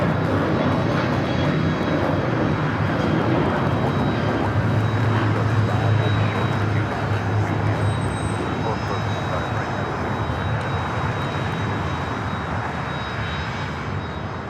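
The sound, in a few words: aircraft at Los Angeles LAX airport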